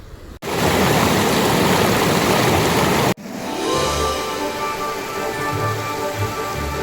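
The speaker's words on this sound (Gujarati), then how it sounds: "આ ઝરણું છે ને કાકા અંદર ડુંગરમાંથી આવે" A mountain stream pours down from the hills in a steady, loud, close rush of water that carries on without a break, its tone shifting slightly partway through.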